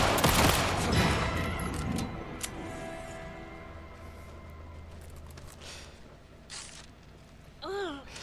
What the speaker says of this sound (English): This pistol is more full auto than Rose's shotgun.